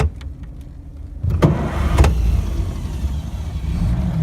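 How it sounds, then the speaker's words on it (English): An old Delage D8 car engine is cranked with a floor push-button starter and catches, a few sharp clicks, then the motor fires and settles into a loud, rough idle close by. "I will start the car."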